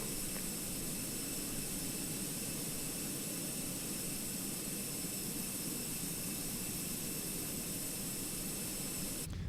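Jet engines of a Fenix A320 airliner running in the Microsoft Flight Simulator game, a steady, loud, unbroken roar with a high whine on top, holding constant throughout.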